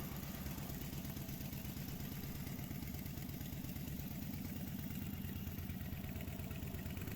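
Old Harley Davidson flathead V-twin engine at hot idle, a steady close loping putter with rapid rhythmic firing pulses and light mechanical clatter, continuous throughout with no talking.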